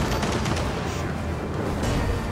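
Gunfire in the video game Gears of War 4 during an insane-difficulty co-op campaign fight: dense, continuous rattling bursts and booms filling the whole stretch at steady loudness, with no voices.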